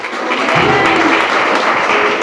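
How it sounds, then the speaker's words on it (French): Church congregation applauding loudly and continuously, a thick sustained roar of clapping hands filling the room. "Applaudissements."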